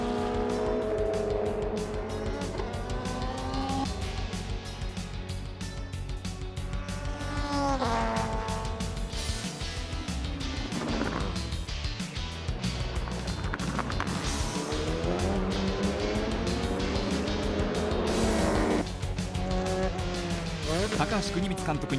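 GT500-class Toyota Supra race cars, the CDMA1 Cerumo Supra and Denso SARD Supra, battling on track in the 2000 JGTC season: loud, continuous engine roar with pitch sweeps as cars pass and shift, under commentary throughout.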